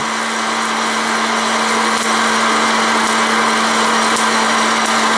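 A steady, loud mechanical whir from a popcorn popper roasting coffee runs throughout, with a constant hum and faint crackling of beans.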